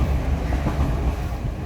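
A passenger train travelling across Sri Lanka, a steady loud rumble of wheels and carriage noise from on board, continuous with no talking.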